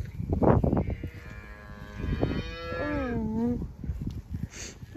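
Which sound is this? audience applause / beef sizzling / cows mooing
cows mooing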